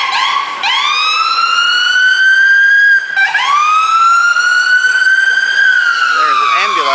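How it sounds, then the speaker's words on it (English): A loud, close ambulance siren wailing in repeated rising and falling sweeps with a brief break partway through, heard from the street, with a voice underneath. "There's an ambulance."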